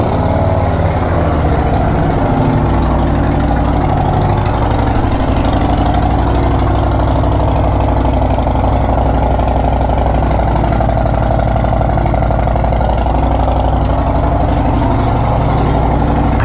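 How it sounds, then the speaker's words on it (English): A Harley-Davidson Road Glide's Milwaukee 8 V-twin turns over on a cold start and settles into a loud, close, continuous idle with a deep throbbing lope that holds steady throughout, with no voices. "let's hear a cold start"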